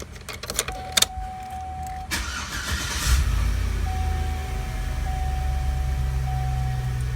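A Chevy Silverado-type truck engine cranks and starts after an oil pressure switch replacement, with a brief whine and clicks before it catches, then settles into a steady, close idle.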